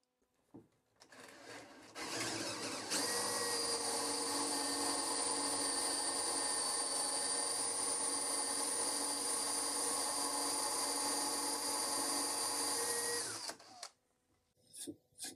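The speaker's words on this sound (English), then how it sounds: "so I'll drill that out with a Forstner bit" Power drill with a Forstner bit boring out a broken wooden tenon and pin from outdoor furniture, a steady high whirring drone of about eleven seconds, close and loud, starting and stopping cleanly.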